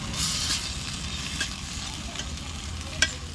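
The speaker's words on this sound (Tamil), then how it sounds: "வந்து எண்ணெயிலேயே இந்த கறி வெந்துடணும்" Chicken curry meat sizzles in oil on a wood-fire village stove, a close, continuous frying hiss with occasional stirring scrapes and one sharper clack near the end.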